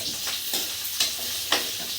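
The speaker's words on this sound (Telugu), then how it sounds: "ఉల్లిపాయలు కూడా ఫ్రై అయిపోయినాయి" Onions frying and sizzling in a pan while being stirred for an egg masala dish, a steady close crackle with a few louder scraping stir strokes, no talk.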